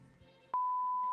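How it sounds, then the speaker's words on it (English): A single steady electronic beep tone cuts in sharply and holds at constant pitch until the end, loud over faint background noise on a live show. "That was a great beep."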